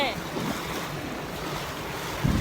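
Sea waves wash at a Thai shoreline during a rising tide, a broad, constant roar of surf mixed with heavy wind buffeting the microphone, with no talk.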